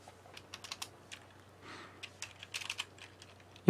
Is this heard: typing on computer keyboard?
yes